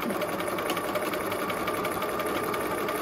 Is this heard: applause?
no